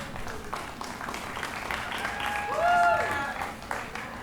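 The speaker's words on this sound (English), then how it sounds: "a big round of applause for Miss Alma Bennett" A theater audience applauds a playwright at a performance of a river spirit play, steady clapping beneath talk, with a brief whistle-like tone rising and falling near the end.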